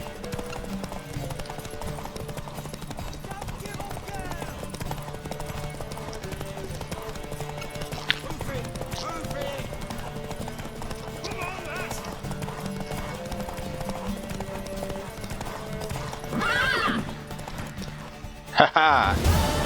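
Horse hooves clip-clop in The Witcher 3 video game, a steady rhythmic clopping running throughout beneath game dialogue and music, with a brief whinny-like flourish and a louder burst near the end.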